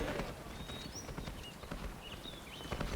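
Quick, steady clip-clop of horse hooves at a gallop in a Lord of the Rings video game, with thin whistling tones drifting over the top.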